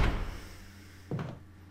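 A door opens in the Resident Evil survival horror game on Xbox One, a brief thud and rattle of the handle and frame late in the moment, after a low ambient hum.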